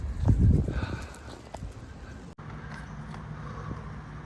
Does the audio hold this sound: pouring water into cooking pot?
no